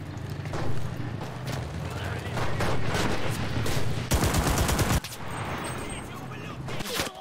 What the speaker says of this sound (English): some sniper fire coming from this room over here